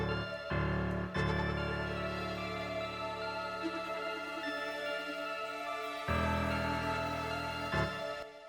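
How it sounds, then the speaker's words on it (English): Low, sustained piano notes ring alone in a steady loop, shifting between just two pitches with no voices. "adding a piano at the root note of the beat and putting it down 1 or 2"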